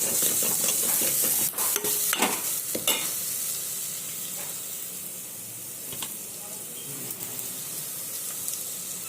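Turmeric and ginger paste fry in hot oil with a steady close sizzle, broken by a few sharp scraping stirs early on, then settling into an even hiss.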